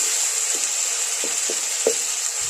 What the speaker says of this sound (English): the one who is cooking, is frying cabbage